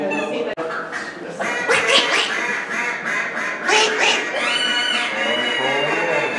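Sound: duck call blown to imitate duck quacks

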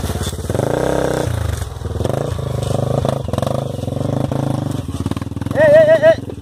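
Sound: motorcycle engine on dirt trail

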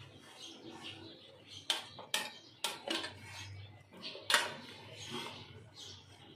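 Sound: hot jackfruit pickle mixture transferred into a bowl

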